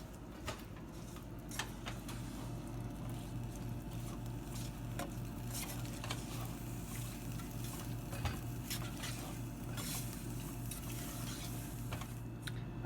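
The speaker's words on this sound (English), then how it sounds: "just keep stirring this" Blueberry tart filling being stirred in a pot on the stove, a steady scraping and swirling with faint clinks of utensil against the pot, continuous at a moderate level.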